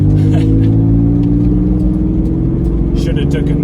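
Inside a Mitsubishi 3000 GT taking corners, a loud, steady, throbbing engine drone fills the cabin with small changes in revs, while the driver talks over it.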